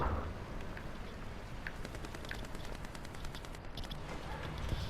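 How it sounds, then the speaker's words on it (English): Rapid machine-gun fire in the War Thunder tank and air battle game rattles faintly in the distance over a steady wash of background noise. "I hope that was a friendly shooting me by accident"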